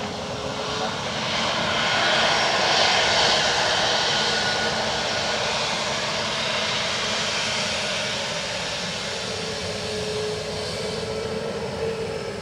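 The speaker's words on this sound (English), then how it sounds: "AA Dreamliner from Chicago" An American Airlines Boeing Dreamliner jet from Chicago passes at Dublin Airport, a loud steady engine roar swelling slightly and then holding, with a faint whine over it.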